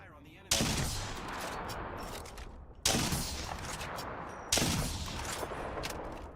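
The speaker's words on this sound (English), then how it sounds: "Opening fire on the enemy." Three loud bursts of video game gunfire in solo ranked play, each a sharp onset followed by a sustained rattle of rapid shots, close and dense, starting roughly two seconds apart.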